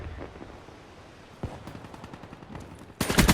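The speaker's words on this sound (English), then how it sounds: "Gunfire sounds and stuff, as you can hear" Gunfire in the Black Ops III multiplayer beta, a scattered run of sharp shots and short bursts at moderate level, ending in a louder, dense volley near the close.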